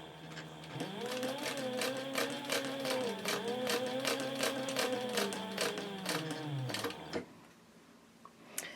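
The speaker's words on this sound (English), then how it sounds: "I'm stitching 1/4 of an inch away from the edge" Sewing machine top stitching a handbag a quarter inch from the edge at a long stitch length, a close, even rapid ticking hum running for about six seconds before stopping, then quiet handling.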